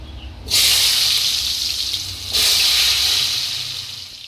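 Diced potato cubes are dropped into hot oil, setting off two sudden bursts of loud bright sizzling that each fade slowly, one near the start and a second about two seconds later.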